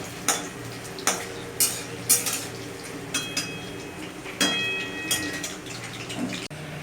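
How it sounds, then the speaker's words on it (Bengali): Potatoes fry in a pan for mutton curry, with a steady sizzle beneath repeated sharp clinks and scrapes of a utensil against the pan. "আলুগুলোকে প্রথমে ভেজে নেব"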